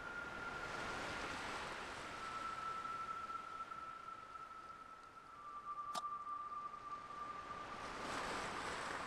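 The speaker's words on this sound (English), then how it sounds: "The sound of the waves have a unique quality to it." Ocean waves in the horror video game Without A Dawn, a faint, steady wash of surf with a thin sustained tone running over it and a sharp click partway through.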